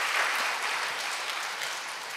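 A congregation claps together during a Friday prayer meeting at a church, a dense, steady patter of hands at moderate volume that carries on evenly without speech.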